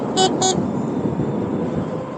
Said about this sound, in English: Honking at NYPD firefighters.